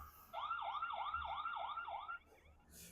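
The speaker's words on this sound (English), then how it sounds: "We can turn on a siren. Okay, it's loud." A loud electronic siren from a security camera wails in rapid repeating yelps for about two seconds, then cuts off abruptly, close and alone.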